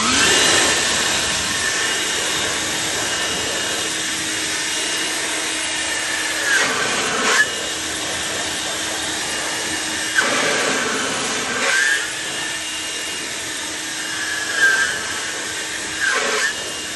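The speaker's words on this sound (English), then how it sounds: "I'm going to use my heavy-duty Ego blower on here" A heavy-duty Ego battery blower roars steadily close by while drying car tires, its loud airy whine swelling and dipping as it sweeps across the wheel, no voices.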